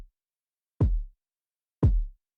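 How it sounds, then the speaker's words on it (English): A stock kick drum sample from the Serum synthesizer hits twice in isolation, each a short punchy thump with a brief click on top and a quick low decay, clear and dry with silence between. "I'm actually using a kick sample included in Serum."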